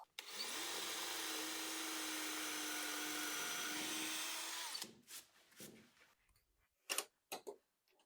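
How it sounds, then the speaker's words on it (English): A power drill whines steadily at high speed for about five seconds while drilling into black walnut wood, then stops, followed by scattered clicks and knocks. "So I'm going to drill a hole."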